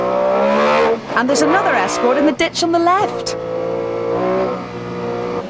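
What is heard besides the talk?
rally car engine heard from inside Denis Biggerstaff's car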